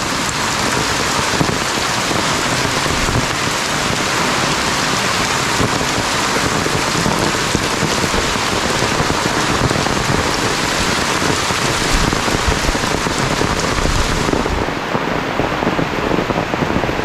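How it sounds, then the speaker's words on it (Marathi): Heavy rain pours down without a break, a loud, dense roar of drops hammering surfaces close by that stays constant and unbroken from start to finish, with no voices. "आता तुम्हाला दाखवतो आजीच्या इकडे किती पाऊस पडतो बघा"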